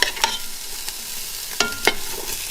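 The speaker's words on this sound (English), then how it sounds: "start stirring the onions, okay, until they go brown and golden" Onions frying in a pan for a Carolina Reaper curry, a soft steady sizzle broken by a few sharp scrapes and knocks of the stirring spoon, close and without talk.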